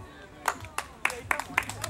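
Sparse claps ring out from an audience welcoming a ranchera band at a wedding celebration, a handful of separate hand claps with voices in the background.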